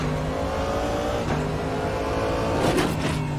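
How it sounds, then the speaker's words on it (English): A Corvette GT3 race car drones steadily at high revs in the RaceRoom racing game, with two brief scraping thumps as the car bottoms out on a bump, and no talking. "Okay, that was my car bottoming out."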